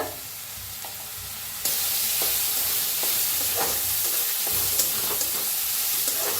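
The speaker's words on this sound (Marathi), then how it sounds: "चांगलं असं भाजून घ्यायचे तेलात." Chopped onion frying in hot oil in a pan as bread pakora filling is made, a steady close sizzle that jumps louder partway through, with occasional scraping stirs and no talking.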